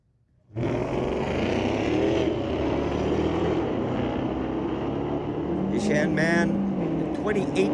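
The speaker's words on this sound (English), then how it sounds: "It's a straight up drag race" Drag race cars at Mission Raceway roaring steadily down the strip in a straight-up grudge match, a loud continuous engine drone that starts suddenly and holds, with brief higher whines near the end.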